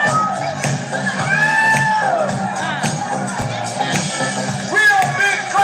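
An audience claps and shouts on command, with bursts of crowd noise and whoops over steady babble. Music runs underneath and an amplified voice calls out the cues.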